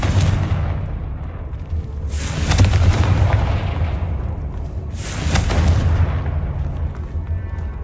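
Two heavy fire-spell blasts from the Confringo spell in the Hogwarts Legacy video game, each a deep booming explosion that fades into a rumbling tail, separated by a few seconds of low background hum.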